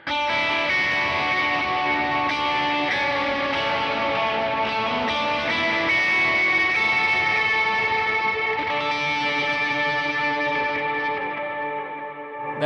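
An electric guitar plays a sustained lead line through high-gain overdrive pedals, giving a thick, saturated tone that rings out loud and continuously with no talking.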